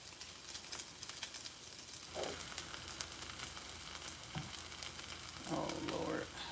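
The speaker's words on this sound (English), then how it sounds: "let it fry a little bit" Mexican stir-fry meat frying in a pan, a quiet continuous sizzle with soft crackles and a couple of brief stirring scrapes, faint and close with no talk.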